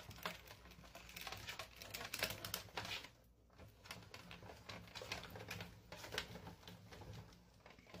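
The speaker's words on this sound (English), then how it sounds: "All that cracking of the paper." Paper crackles and snaps as a Sizzix die-cutting machine cuts it. A dense, continuous run of faint crisp crackles and ticks carries on steadily, with no speech over it.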